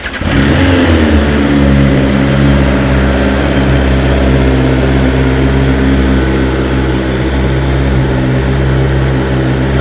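A 2023 BMW S1000XR motorcycle with an aftermarket exhaust fires up and settles into a loud, steady idle with strong throbbing low-end, close and continuous with no talk.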